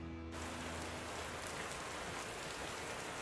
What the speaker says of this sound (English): when we're done, a downpour ensues